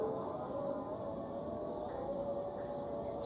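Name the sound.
crickets and insects chirping at night in a graveyard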